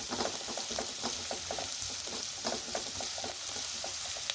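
Finely chopped onions fry in a pan for mushroom curry, a steady close sizzle and crackle with spatula stirring scrapes at a regular pace.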